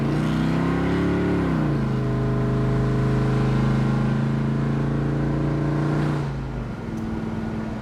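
A 1969 Chevrolet Impala convertible's V8 rises from idle, revving up strongly and steadily as the car pulls away, then the engine note drops as the throttle eases, loud and close throughout.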